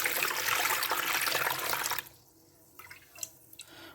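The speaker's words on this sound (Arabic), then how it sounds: "غنبدا نشد هاد السمن اللي عندي وغنكب فيه هاد الماء ديال الملحه" Salted water is poured into butter while making Moroccan smen, giving a steady, fairly loud splashing pour for about two seconds, followed by a few faint drips and trickles.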